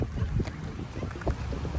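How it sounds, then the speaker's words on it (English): Strong wind buffeting the microphone at Boca Inlet, a steady low roar with gusty rumbles throughout, loud and close, no voices. "It's really windy."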